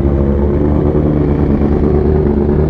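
A loud BMW motorcycle engine runs steadily and close by, a continuous low rumble with no talking.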